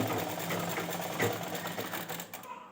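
A sewing machine stitches a kali panel of a ghaghra skirt, with a continuous rapid mechanical chatter at moderate volume that slows and fades near the end.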